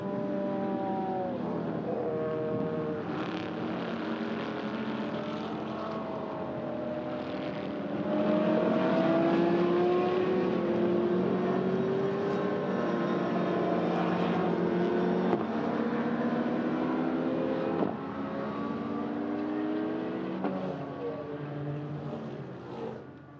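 GT race cars pulling away on the formation lap at Magny-Cours, a sustained multi-engine drone with rising and falling pitches as cars pass at middle distance, swelling louder midway and holding steady.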